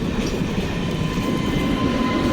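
An electric MEMU commuter train pulls into Kanaibazar railway station, a steady loud rumble of wheels and carriages close by, with a faint whine on top and no talk.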